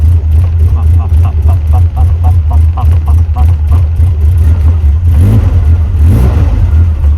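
Rotary engine car on a cold start, loud exhaust close by, engine revved repeatedly in a rapid pulsing rhythm over a deep rumble, with a bigger surge near the end.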